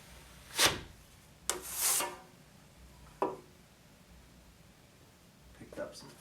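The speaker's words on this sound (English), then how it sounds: "when I'm applying the mud I'll start more perpendicular, and as I need to apply more mud I just keep flattening it out" A putty knife spreads and scrapes drywall mud across a wall patch in four short rasping strokes, the longest near the start, separated by quiet pauses.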